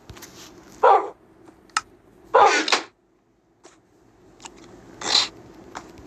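A puppy in a video game barks in several short, loud bursts spread across the moment, with quieter clicks and game noise in between.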